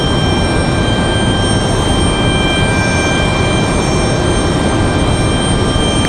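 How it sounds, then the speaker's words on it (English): A Boeing C-17 military jet departs Raleigh-Durham airport as a loud, continuous, even engine roar with no voices. "So a good looking departure there for that C-17"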